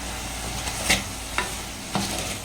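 Tomatoes sautéing in a clay pot for a brinjal gravy, with a soft, steady sizzle and a few sharp stirring scrapes against the pot, close by with no talk.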